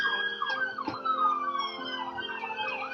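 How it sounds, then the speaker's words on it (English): Police car sirens pass by outdoors in a loud, wailing sweep, rising and falling in pitch with overlapping tones from two cars. The sirens are heard alone with no talk. "we get a siren going by. Man, that's 2 cop cars"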